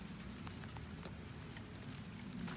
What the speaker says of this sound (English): So it's raining right now.